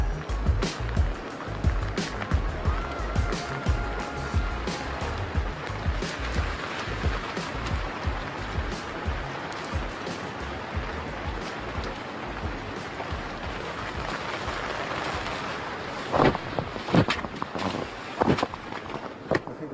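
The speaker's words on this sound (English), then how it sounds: "Water rushing." Floodwater rushes through flooded Houston streets during heavy rain, a steady broadband wash that holds throughout with scattered splashes and a few sharper bursts near the end, fairly close.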